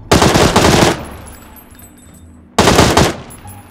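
Gunfire in a shooting video game, heard as two loud bursts of rapid automatic fire close up, separated by a quieter gap with faint game ambience.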